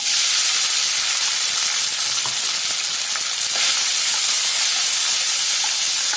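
Cumin seeds and soaked sabudana hit hot oil for sabudana khichdi, making a loud, dense, unbroken hiss and sizzle that stays close and even throughout.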